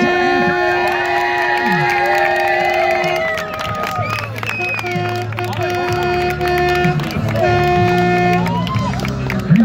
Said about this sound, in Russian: Под яркие овации всех вас встречаем.